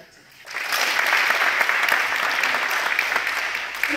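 Sustained audience applause at a Dan Church Aid youth competition event in Nakuru, rising sharply after a quiet start and holding steady as a dense wash of clapping.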